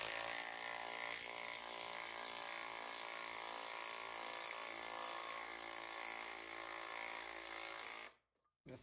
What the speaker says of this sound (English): you're doing a 1/2 inch, 4-inch lag with your underpowered impact.